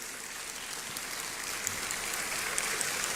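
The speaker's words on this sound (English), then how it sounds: "Shall we do a big round of applause for the Commissioner General of the Ghana Immigration Service" An audience at a Ghana Immigration Service citizenship ceremony applauds a dignitary, a steady, dense wash of many hands clapping at a distance, even in loudness throughout.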